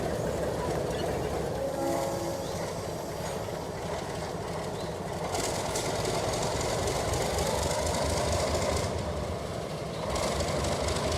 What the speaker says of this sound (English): Our train exits the yard, then backs down the siding to the other side of the crossover.